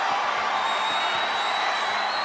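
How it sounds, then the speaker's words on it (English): A dense, roaring wrestling crowd cheers continuously during an ambulance match, loud and sustained, with a whistle-like tone cutting through. "The sound of this crowd is deafening"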